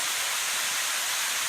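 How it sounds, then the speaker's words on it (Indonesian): A roughly 20-metre waterfall on the Hoogland river pours straight onto rocks rather than into a pool, making a steady, dense roaring hiss with no pauses and no voices. "Dan inilah air terjun tertinggi di Sungai Hoogland dengan ketinggian kurang lebih 20"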